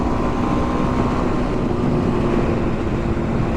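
Steady, loud engine drone and wind rush from a 2024 Kawasaki KLX300 dual-sport motorcycle being ridden through corners, continuous throughout with no speech.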